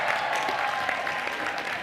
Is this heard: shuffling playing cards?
no